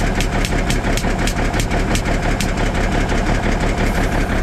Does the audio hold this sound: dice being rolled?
no